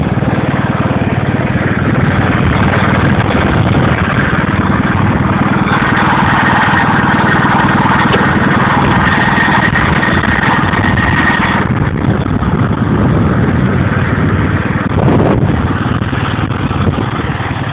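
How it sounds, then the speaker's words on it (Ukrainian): A homemade tractor's small UD-25 engine runs loud and close, a constant rough chugging drone that shifts in pitch slightly as it revs, with no talking. "двигун заводиться. Прекрасно."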